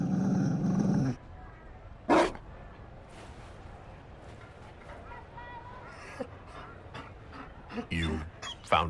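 In the video game Dragon Age Inquisition, a Mabari war dog gives low growls in short bursts. Character dialogue and game ambience carry on around them.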